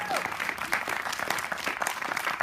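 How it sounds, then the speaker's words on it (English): Continuous applause from a studio audience welcoming guests onto a comedy show stage; fairly faint but steady crowd clapping throughout, with individual sharp claps standing out. "Keep the applause coming till they actually get down here."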